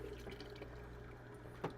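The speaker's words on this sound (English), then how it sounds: "Dump the water right in your sink." Water splashes briefly into a kitchen sink as it is dumped out of a Linx 140T water filter housing, faint and close, with a small drip-like splash near the end.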